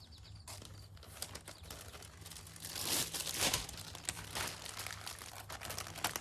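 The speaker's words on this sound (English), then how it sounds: "I'll grab some plastic here to cover it up" Plastic sheeting crinkles and rustles while being spread over seed trays in a garden, with a brief swell of louder crumpling midway and steady low hum beneath, close by.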